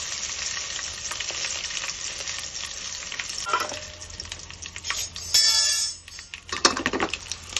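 Mustard seeds and dried chillies fry in hot oil with a crackling sizzle and rapid popping, then a louder burst of spattering midway before it settles back into crackles.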